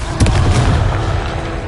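A Confringo fire spell blasts in Hogwarts Legacy, a loud, dense explosive boom that fills the short moment with a roaring low rumble and no break.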